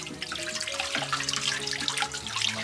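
Hands are washed under a tap, with water running steadily into a basin at close range and no talking.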